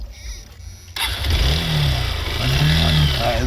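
A motorbike engine on a rough road in Laos, first idling quietly, then loudly picking up and revving close by, its tone rising and falling as the bike moves; no talk is heard.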